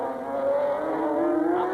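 A 500cc Grand Prix racing motorcycle at the 1987 British race accelerates in third gear near 115 mph, a sustained loud engine tone rising steadily in pitch with no pauses.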